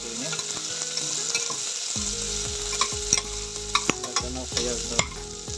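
Ingredients for a tomato bath with field beans fry in a pan, a soft continuous sizzle broken by repeated metallic scrapes and clinks of a spoon stirring, close by and with no voices.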